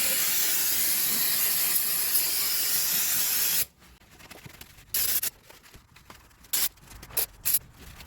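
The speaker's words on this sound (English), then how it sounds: "So let's get the brake cleaner, compressed air, clean this mess up." Brake cleaner and compressed air sprayed on a car's brake and suspension parts, a loud continuous hiss for several seconds that stops abruptly, followed by short sharp blasts of air.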